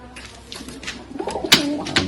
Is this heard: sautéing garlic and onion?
no